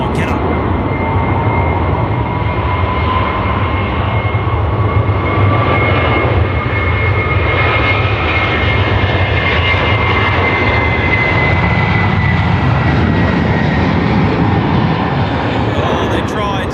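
A jet airliner departs Sydney Airport at night from runway 16 Right, its engines making a loud, steady roar that fills the whole stretch, with people talking over it.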